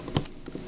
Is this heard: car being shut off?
no